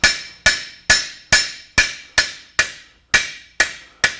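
A hammer strikes hot metal on an anvil while forging and spreading it, ten sharp ringing blows at a steady pace of roughly two per second, each decaying quickly.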